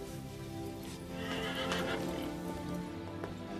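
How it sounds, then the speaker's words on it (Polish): A horse whinnies loudly and close while hooves clip-clop steadily beneath it, set in a period drama about Paris horse racing, with no speech over the sound. "Nie znam konia, który pokonałby to piękne zwierzę."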